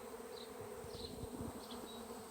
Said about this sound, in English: But man, that's a lot of bees.